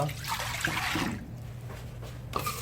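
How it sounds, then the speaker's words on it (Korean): Soy sauce, 1 kg of it, pours into a pot in a steady liquid stream, a soft close splashing trickle that fades toward the end. "진간장 1kg 들어갑니다"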